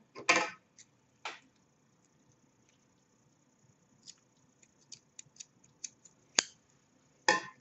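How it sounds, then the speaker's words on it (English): Scissors snip a loose yarn end on a crocheted piece, a few sharp close clicks and snips scattered over quiet silence. "you can just bury your loose yarn end and then just cut that"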